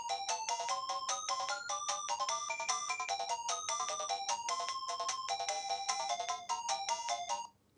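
Chiptune soundtrack music from the Wonder Boy video game plays on its own, with bright, rapid beeping melody notes and a thin bass line over a steady tempo. It fades out at the very end.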